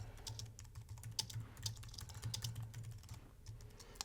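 Quiet, rapid keyboard typing on a computer, a close string of light, irregular key clicks entering a search question, steady over a few seconds with no talking.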